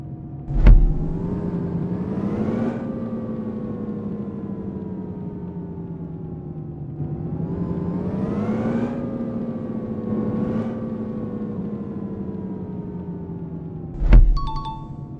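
A bus engine in an Indian bus simulator game drones steadily, its pitch rising and falling as the vehicle accelerates and slows, with sharp clicks near the start and end and no talk.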